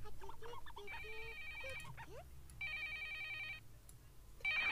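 A telephone rings with an electronic ringtone in repeated bursts of tonal beeps, fairly clear over a low background hum.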